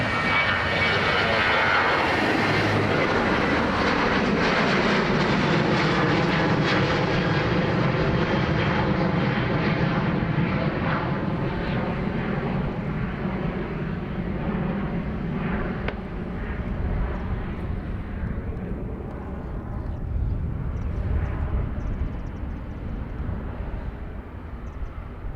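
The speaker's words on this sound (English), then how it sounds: "So, Ringmaster, this will be one of your chariots on Wednesday to London City. BA Embraer" A British Airways Embraer jet at Dublin Airport, loud and close: a sustained engine roar with a falling whine, steady and broadband for the whole stretch, fading slightly toward the end, with no talk over it.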